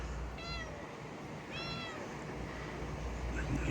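Two clear meows from an orange shop cat, the second slightly longer, over a steady low hum of running fans, fairly close.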